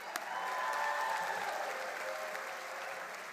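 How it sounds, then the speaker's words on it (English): Steady applause from a commencement audience for business school graduates, a dense wash of many hands clapping at moderate distance, sustained evenly throughout with no talk over it. "Big round of applause for them."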